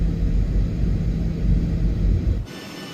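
A Southwest airliner passing in a flight simulator gives a steady, loud low rumble and hiss of jet engines that cuts off abruptly near the end, leaving a quieter hum.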